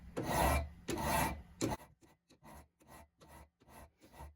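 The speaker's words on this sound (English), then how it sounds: "file down these squares on the lag bolt" A metal file rasps over the squares of a steel lag bolt, first in a few long heavy strokes and then in a quicker run of shorter, lighter strokes, close and alone.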